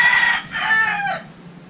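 A rooster crows close by, one loud hoarse cock-a-doodle-doo in several drawn-out phrases that trail off into quiet.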